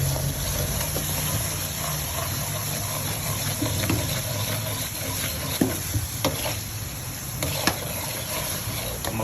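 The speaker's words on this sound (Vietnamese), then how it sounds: "Mực chiên giòn." Squid frying in a pan, giving a steady sizzle with occasional small pops and stirring clicks, close up and with no talk.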